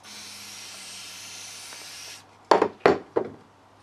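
Penetrating fluid sprayed into a greasy bearing, a steady close hiss lasting about two seconds, then silence followed by three sharp rubbing knocks.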